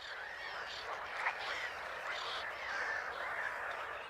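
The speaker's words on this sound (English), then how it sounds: "The toad's mating cries have given them away." Toads calling in a mating chorus at a Polish wetland, a steady continuous trilling and croaking texture held at moderate distance throughout.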